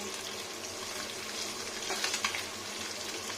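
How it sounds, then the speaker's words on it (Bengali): Small chara pona fish frying hard in hot oil, a dense, continuous close sizzle and hiss with a few brief crackles, no speech. "চারাপোনা মাছ ভাজতে হয় একটু শক্ত শক্ত করে"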